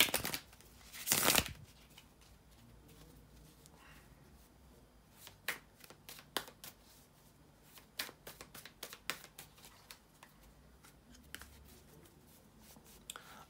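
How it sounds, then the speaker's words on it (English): A tarot deck is shuffled by hand close up, starting with a loud riffle, then a long run of soft taps, flicks and card slaps in an uneven rhythm. "So let me shuffle the cards and we're going to jump right into it afterwards."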